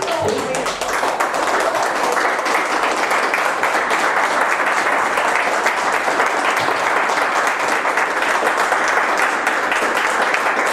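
A conference audience gives a long, loud burst of applause after a talk, dense sustained clapping from many hands filling the room.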